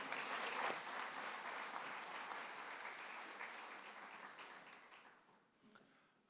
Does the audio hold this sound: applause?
yes